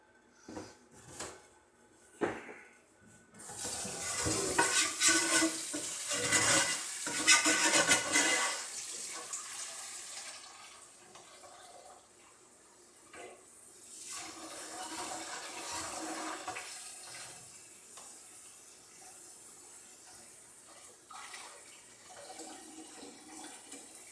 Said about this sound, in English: Add some more water to rinse out this pot.